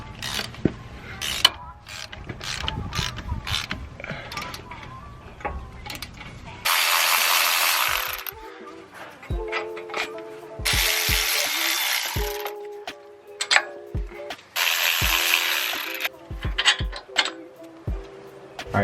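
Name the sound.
ratchet loosening wheel hub assembly bolts on Chevy Silverado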